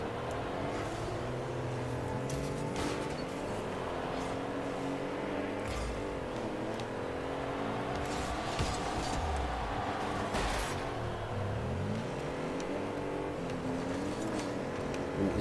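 A car in the video game Rocket League drives with a continuous engine hum that rises and falls as it accelerates and revs. There are a few sharp knocks from impacts.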